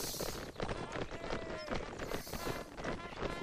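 Horse hooves clip-clop in a video game as mounted riders form up into columns, the steady rhythmic hoofbeats close and continuous, with game noise and people talking over them.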